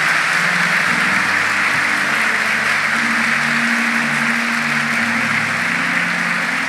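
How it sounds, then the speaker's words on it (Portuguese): Loud, sustained applause from a church congregation at a Catholic sermon fills the space evenly, with a low organ or keyboard chord droning underneath the whole time. "Dê uma salva de palmas ao Senhor"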